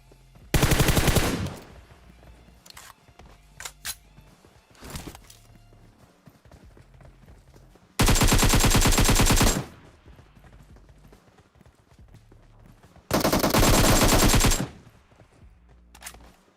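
Automatic gunfire from a player lying prone in PUBG Mobile, heard as three loud, sustained bursts several seconds apart, with quieter footsteps and game noises between them.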